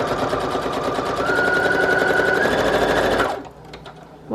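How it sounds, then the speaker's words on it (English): A sewing machine stitches through a paper folio with a fast, steady mechanical rattle up close, running evenly for about three seconds before stopping abruptly. "I better get to sewing."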